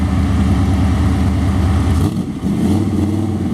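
A 1937 Willys sedan engine idles steadily with a low, throaty rumble, dipping briefly partway through before settling back into its even running.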